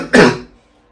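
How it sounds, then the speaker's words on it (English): One short, close throat-clearing cough, a single rough burst that fades quickly into quiet. "My cough is stuck in my throat."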